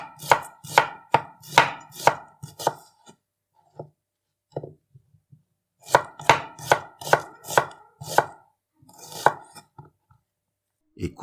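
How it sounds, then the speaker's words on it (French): Onions roughly chopped with a knife on a board for Flemish beef carbonade: two bursts of rapid, steady, close thuds separated by a pause with a few isolated cuts, loud and clear without talk. "Découpez grossièrement les oignons."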